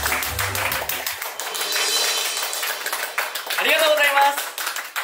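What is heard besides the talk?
applause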